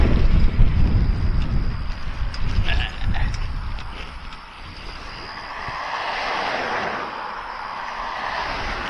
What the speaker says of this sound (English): A hardcore motorcycle guy.